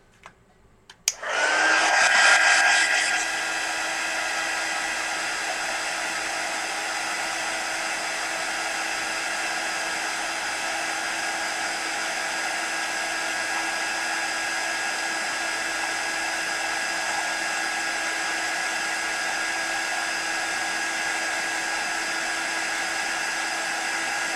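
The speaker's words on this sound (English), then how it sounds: "let me get the heat gun real quick" A handheld heat gun, used in sketching and watercolor work, blows hot air: it switches on abruptly with a brief louder surge, then holds a steady, close, unbroken whir for over twenty seconds, with no one speaking.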